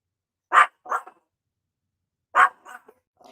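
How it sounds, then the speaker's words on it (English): A dog barks in two quick pairs, a short burst, a pause of over a second, then another bark pair, fairly close and clear with no talking. "they have a dog"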